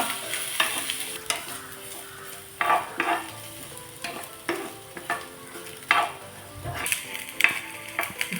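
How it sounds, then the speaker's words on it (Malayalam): Green chili and ginger fry and sizzle in a pan while a spoon stirs them, giving repeated scraping strokes over a steady crackle, with no one talking. "ഇനി ഇത് നല്ലോണം ഒന്ന് ചുവന്ന് വരണം. അതുവരെ ഒന്ന് ഇങ്ങനെ ഇളക്കിക്കൊണ്ടിരിക്കാം."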